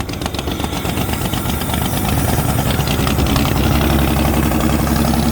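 Propane-converted flathead Ford engine in an old Motowlift forklift running at idle, a rough, dense rumble with knocking pulses, steady and close, growing slightly louder, no speech.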